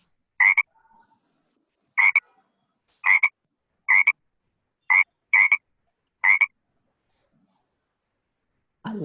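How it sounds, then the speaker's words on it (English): A frog croaks seven times in short, evenly spaced bursts, each clear and close against a quiet background. "A frog croaks."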